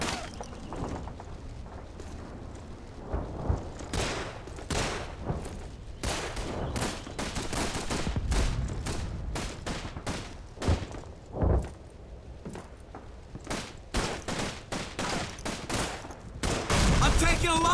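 Rapid bursts of gunfire crackle through a Call of Duty 3 firefight, with machine-gun volleys and single shots in irregular clusters, loud and close, under shouted voices.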